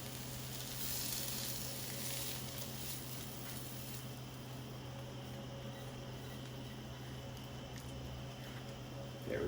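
Garlic dropped into a pot of broth simmering toward a boil for paprika honey garlic wings, giving a steady close sizzle and bubbling hiss that runs unbroken with no talk.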